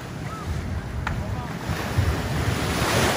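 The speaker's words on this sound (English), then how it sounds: "It's really windy." Strong wind buffets the microphone on a beach at Panama City, Florida, roaring steadily and growing louder over a few seconds, mixed with the rush of surf.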